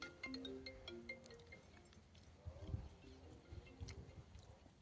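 A faint electronic phone ringtone plays a short melodic sequence of tones, followed by quiet clattering and knocking sounds nearby.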